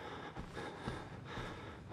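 Heavy, ragged breathing from the player character in the horror game Outlast, a few close, faint gasping inhales and exhales in an uneven rhythm.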